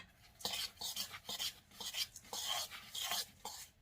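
A spoon stirs matzo ball mix in a bowl, making a series of scraping, wet clicking strokes in an uneven rhythm, close and fairly quiet, with no talking.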